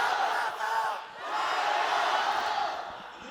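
Large arena crowd at a Valorant esports match in Shanghai roars and chants for hometown team FPX, a dense sustained wall of voices swelling and dipping in loudness, with no commentary over it.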